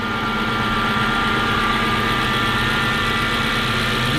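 An Audi C5 S6 engine idles smoothly and steadily up close, a loud continuous rumble with an even mechanical hum and no misses or stumbles.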